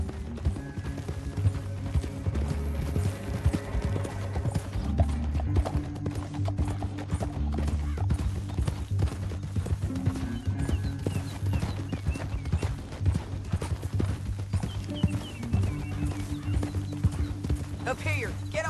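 Horse hooves clip-clop in a steady trotting rhythm while riding in the video game Red Dead Redemption 2, running through the whole stretch under game music and the voices of characters talking.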